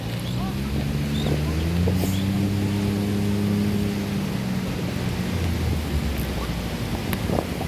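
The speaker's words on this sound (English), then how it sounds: "You never know with a storm like this." Stormy weather on Fort Myers Beach, Florida, with rolling low rumbles and strong wind buffeting the microphone over steady noise, a deep drawn-out rumble swelling in the middle.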